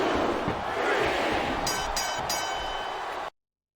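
Roaring arena crowd in the WWE SmackDown vs. Raw 2007 wrestling video game, a steady loud wash of cheering with a brief rhythmic burst in the middle before cutting off abruptly.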